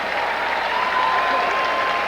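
A basketball crowd at a Lehigh versus Penn State game in December 1997 applauds as a player comes off for a substitute, a steady wash of clapping filling the arena for the whole stretch, with no talk over it.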